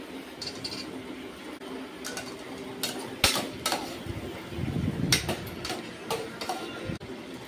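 Peanuts tossed into a pan already frying potato, onion and tomato in a home kitchen, with faint sizzling under scattered scraping and clinking of a spoon against the pan, some louder sharp knocks.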